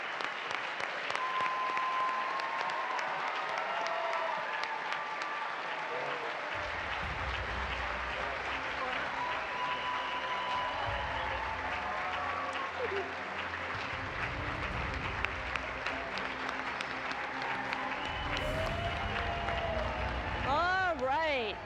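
A large audience applauds as NASA's 23rd astronaut class enters a graduation ceremony room: a dense, sustained roar of clapping that continues throughout, with a voice speaking over it and occasional cheers.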